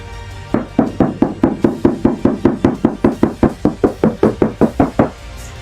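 Knuckles rap on a Mazda CX-3 body panel before sound deadening, giving about twenty evenly spaced, close, thin hollow knocks in a quick steady rhythm, alone.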